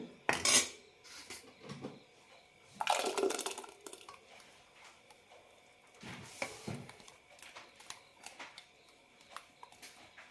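Ground coconut paste scraped and poured into an ash gourd and mango curry pot, with several sharp metallic clinks of a spoon against the vessel between quieter stretches and no talk.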